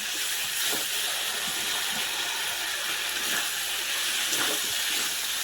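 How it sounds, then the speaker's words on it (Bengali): Fried vegetables hiss and sizzle in spiced oil in a pan, a steady close frying crackle with faint stirring scrapes throughout. "আমাদের তেল ছেড়ে গেছে, এবারে ভেজে রাখা সবজিগুলো দিয়ে দেবো।"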